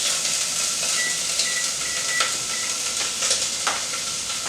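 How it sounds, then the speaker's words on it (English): Three garlic cloves cooking in a pot for enchilada sauce, with a steady hissing sizzle and a few light stirring scrapes throughout. "3 cloves of garlic. Add it to your pot, cook it for about 5 minutes."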